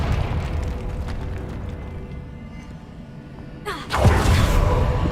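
A deep rumbling boom bursts out as a Confringo blasting spell explodes in a Harry Potter video game, following a quieter stretch of low ambient drone.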